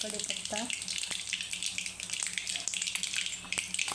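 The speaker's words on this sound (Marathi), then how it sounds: "तेल गरम झालेलं आहे मी थोडं जिरे मोहर टाकून घेणार आहे" Cumin and mustard seeds sizzling in hot oil in a home kitchen pan, a steady close crackle and hiss with small sharp pops scattered throughout, and a brief voice at the start.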